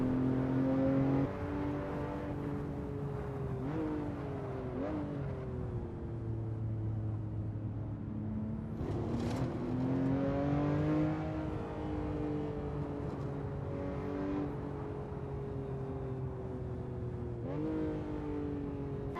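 A car in the Assetto Corsa racing game, driving the Glencoe Scottish Highlands map, drones with a steady engine hum that climbs in pitch and drops at repeated gear shifts, continuous and fairly loud.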